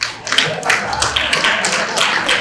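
Audience at a city State of the City address breaking into scattered clapping and cheering, a burst of sharp claps rising and fading over a couple of seconds while a voice speaks.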